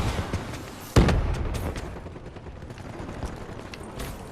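Gunfire aimed at a robot in the Black Ops 3 video game, with one loud boom-like shot near the start followed by a dense rattle of rapid shots and action noise.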